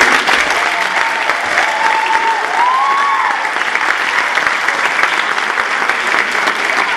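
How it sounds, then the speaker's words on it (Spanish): Audience applause at an Arab dance ballet performance in Durango, steady and fairly loud clapping from a crowd that carries on without letup, with a faint whistle or cheer rising briefly partway through. "les pido un fuerte aplauso para la directora de este ballet de danza árabe"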